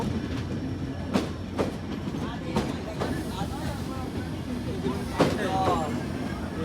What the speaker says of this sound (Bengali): এই যে এটাই হলো আমাদের সে সুন্দরবন এক্সপ্রেস